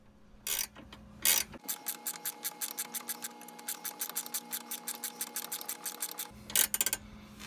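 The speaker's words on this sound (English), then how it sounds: "So I'm going to start raising it right here at this point using the same size wrench." A wrench cranks the mower deck adjuster on a John Deere 100 Series lawn tractor, giving a long run of quick, evenly spaced metallic ratchet clicks, close and fairly quiet, with a few louder clunks before and after.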